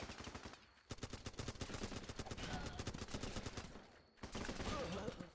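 Rapid automatic gunfire in the war game Running With Rifles, a dense rattling stream of shots that pauses briefly and then resumes; no distinct grenade blast stands out.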